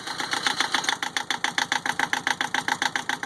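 A Yanmar 2GM20F two-cylinder diesel on a sailboat starts up and runs with a fast, even chugging knock, loud and close, each firing pulse clearly separate in a steady rhythm, with no talking.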